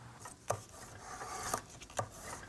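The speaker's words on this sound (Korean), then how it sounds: "여기는 한번더 깎아내 가지고 얍습니다" A bamboo folding fan rib is shaved thinner by hand with a blade, giving a soft continuous rasping scrape with a few sharper strokes, quiet and close.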